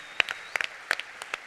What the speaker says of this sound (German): Vielleicht nochmal einen Applaus.